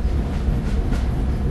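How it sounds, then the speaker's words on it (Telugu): A train rolling along in the Indian Bikes Driving 3D mobile game, a loud continuous rumbling drone with a faint rhythmic clatter, no talking. "ఇందుకే మన ట్రైన్ అయితే ఎంతవరకు వెళ్తుందో ఏటో చూద్దాం"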